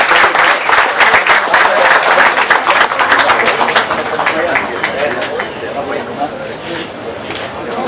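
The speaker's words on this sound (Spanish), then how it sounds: "Fuerte el aplauso para ella," Loud audience applause at a job fair in Acapulco, dense sustained clapping from a crowd, slowly easing off over eight seconds, with a voice talking over it.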